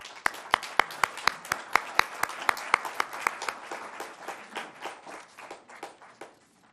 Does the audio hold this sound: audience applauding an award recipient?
yes